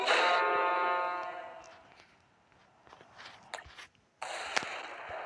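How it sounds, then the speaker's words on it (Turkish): A loud, sudden explosion of a planet in the game Solar Smash bursts out and rumbles away over a second or two, followed by scattered crackles and a second sharp blast. "Venüs'ü de patlatalım."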